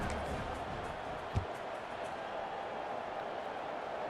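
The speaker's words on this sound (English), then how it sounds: "this crowd is buzzing after that last score" A stadium crowd in the EA Sports College Football 26 video game keeps up a steady, dense murmuring roar after a score, with one brief thump partway through and commentary-like voices underneath.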